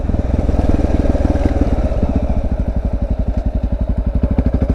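Single-cylinder Honda XR650L dual sport motorcycle thumping along under way, a loud, close, steady pulsing engine beat that quickens slightly toward the end, with no talking.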